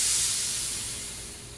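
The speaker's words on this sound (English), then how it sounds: "what I want to do now is push down the air nozzle in the back." Air hisses steadily from the nozzle of a lowrider hydraulic piston pump as it is pushed down, a close, continuous broadband rush that slowly fades over under two seconds.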